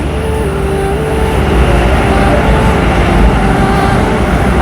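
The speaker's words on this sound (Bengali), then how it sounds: "বর্তমানে ট্রেনটা এখন দেখতে পাচ্ছেন যে ট্রেন ঢুকে গেল।" A loud, steady rumble of a metro train rolling into Howrah's deep underground station in Kolkata, a dense roar of wheels and motors with a faint high whine, continuous throughout.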